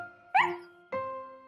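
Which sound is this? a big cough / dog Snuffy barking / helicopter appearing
dog Snuffy barking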